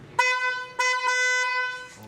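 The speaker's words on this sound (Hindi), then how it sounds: "हॉर्न जो है उसको भी एक चला के दिखा दो" A Nissan Patrol under restoration sounds its car horn: a short honk, then a longer sustained blast with a slight break partway through, loud and close, with brief voice sounds at the start and end.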